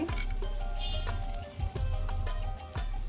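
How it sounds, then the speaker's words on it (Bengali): Garlic fries in a pan with a soft, continuous sizzle, broken by a few sharp clinks and scrapes of stirring. "রসুনগুলো একটু নেড়ে চেড়ে একটু ভেজে নেব"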